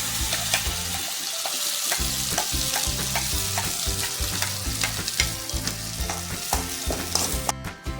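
Ground masala paste for paneer butter masala sizzling loudly in melted butter in a pan, a dense, continuous crackle with stirring scrapes and no voices.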